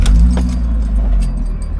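Keys jangle close by in the ignition of a 2005 Jeep Wrangler TJ with a six-speed and 112,000 miles, over a low rumble as the engine turns on, brief and loud without talk.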